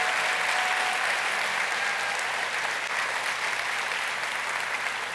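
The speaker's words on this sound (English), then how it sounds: "Please join me in giving a round of applause." An audience at a political forum applauds continuously, a broad, even wash of many hands clapping that holds steady throughout at moderate loudness, with a faint crowd murmur and no distinct voices.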